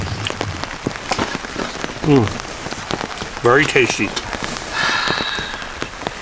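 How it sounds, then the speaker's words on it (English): Rain patters steadily on a surface at a wilderness campsite, a dense close crackle of drops under a tarp, while someone speaks briefly over it. "Raining? No problem."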